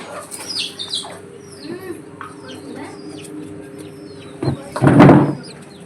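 Young chickens about 75 days old cluck and peep in a busy cluster, with a louder burst of clucking near the end over a faint steady hum.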